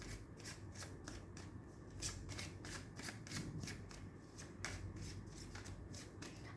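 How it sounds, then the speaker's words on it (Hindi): Tarot cards shuffled in a steady, close, quiet riffle of repeated crisp flicks and slaps, with no talking over them. "I will take just one card."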